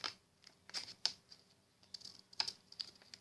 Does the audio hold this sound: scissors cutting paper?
yes